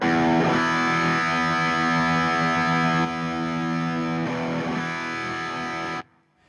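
Loud, heavily distorted high-gain chords through a Friedman JJ Junior signature amp ring out continuously, with a slight compressed volume dip midway after a mode switch, then cut off sharply near the end.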